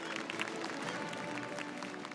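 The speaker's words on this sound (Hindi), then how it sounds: "मैं चाहूंगा आप सभी लोग पहले तो जोरदार तालियों से नितिन गडकरी जी का स्वागत करिए" An audience at a conference event applauds to welcome Nitin Gadkari, a steady wash of clapping heard at moderate distance and fairly faint, with a faint voice in the background.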